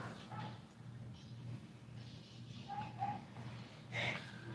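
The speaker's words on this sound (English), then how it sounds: "You guys hear the doggos barking in the background?" Several dogs barking in the background during a live stream, faint and distant, with a few scattered yips and short barks under a steady low hum.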